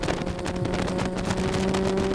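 Car engine at full throttle on a track day, accelerating out of a lap with a steady, loud droning roar and rising tonal whine throughout, no voices.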